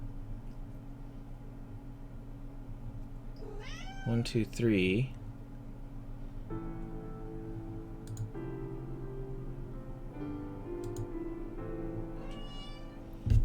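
A pet cat meows indoors, two drawn-out wavering cries in the middle, with further short meows later over a steady electronic hum, while a person talks between them.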